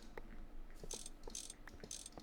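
A wrench clicks as it dismantles machines in GregTech New Horizons, giving a quick series of quiet, crisp ratcheting mechanical clicks in a steady rhythm.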